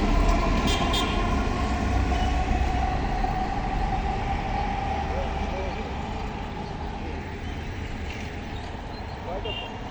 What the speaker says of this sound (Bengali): আপনারা দেখতে পাচ্ছেন একটা রেল এইমাত্র স্টেশন ছেড়ে যাচ্ছে